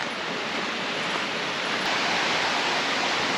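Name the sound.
waterfall in Western North Carolina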